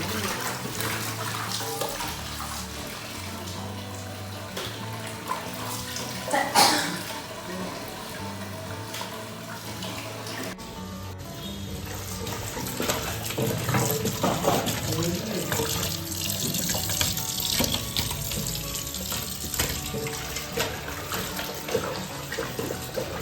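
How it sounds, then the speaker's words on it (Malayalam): Raw chicken being washed by hand under running tap water in a home kitchen, a continuous splashing stream that grows louder and more turbulent partway through, with occasional talk underneath. "ചിക്കൻ കഴുകിക്കൊണ്ടിരിക്കുകയാണ്."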